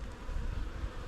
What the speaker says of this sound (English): bees actively defending this